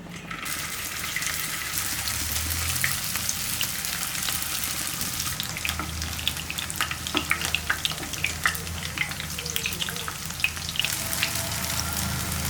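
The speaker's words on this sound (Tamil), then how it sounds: "இப்போ இதை எடுத்து எண்ணெயில் போட்டு பொரிச்சுக்கலாம்." Masala-marinated cauliflower deep-frying in hot oil, a steady bubbling sizzle with crackling pops that continues throughout at moderate loudness, no talking.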